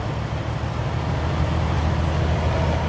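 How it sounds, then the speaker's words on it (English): A semi truck's diesel engine running during an inspection, a steady low rumble that gradually swells and grows slightly louder as the revs climb, continuous and close with no talking. "See the RPMs go up."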